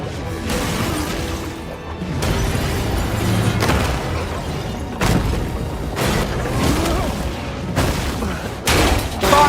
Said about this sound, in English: In an oil tanker explosion, Mark is subjected to intense blast waves